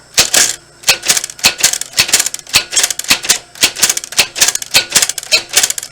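A We R Memory Keepers typewriter is typed on at a slow, steady pace, each key striking with a sharp, close clack in an even rhythm of about three strokes per second, with no voices.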